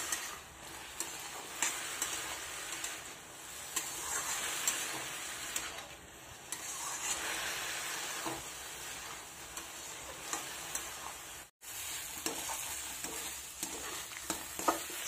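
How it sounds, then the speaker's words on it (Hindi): Leafy greens (saag) cook in a pan with a steady, gentle sizzle while a spoon stirs them in scraping strokes and occasional light taps, close up and continuous for a long stretch, with a brief silent gap near the end. "अब इसको अच्छा से चलाते हुए पका लेंगे।"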